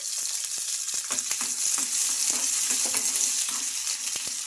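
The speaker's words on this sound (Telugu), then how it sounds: "ఆయిల్ హీట్ అయింది ఇప్పుడు ఇందులోకి చిన్నగా కట్ చేసుకున్న ఉల్లిపాయ ముక్కలు వేసుకోవాలి" Chopped onions, unpeeled garlic cloves and green chillies frying in hot oil, a continuous bright sizzle with frequent crackling pops and stirring clicks, close up with no talking.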